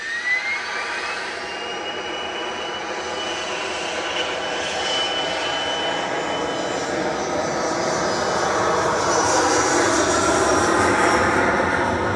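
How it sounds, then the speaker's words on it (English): An SAS Airbus A320 jet touching down at Manchester Airport on a flight from Copenhagen, its engine roar broad and steady, swelling slightly louder toward the end, with a faint rising whine early on. "we've got SAS just touching down from Copenhagen"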